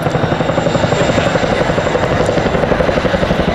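A Chinook helicopter flying sideways at an RAF Waddington air display, heavy, steady rotor thump and engine roar, loud and continuous, with a dense rhythmic chop throughout.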